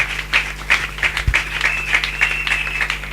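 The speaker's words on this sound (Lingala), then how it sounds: "Acclamez pour la gloire de l'Éternel notre Dieu." Church congregation applauding in rhythmic clapping, a steady pulse of hand claps over a low hum, fairly close, with a soft tone sustained through it.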